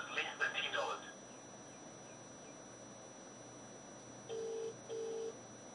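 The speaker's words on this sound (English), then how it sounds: "That's your phone." A phone sounds two short steady electronic beeps in sequence, clear over a quiet room background, after a few seconds of muffled voices.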